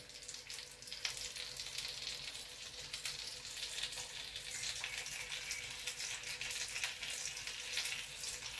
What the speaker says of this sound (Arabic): غادي نضيفو عليها اللحم ديالنا باش يتقلى يتقلى